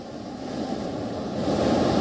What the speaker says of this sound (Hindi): पानी का बहाव इतना तेज है